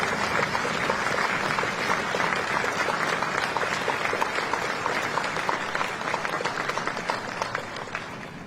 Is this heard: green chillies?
no